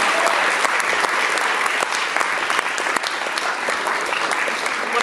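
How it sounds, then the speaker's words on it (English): Audience applause at a film festival screening, a dense, loud wash of many hands clapping continuously, close and unbroken for the whole stretch. "And keep that applause going for Aidan Rolfe and Coral Carter"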